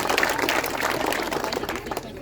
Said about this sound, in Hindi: इस वैशाली के धरती पर एक बार जोरदार ताली बजाइए आदरणीय प्रशांत किशोर जी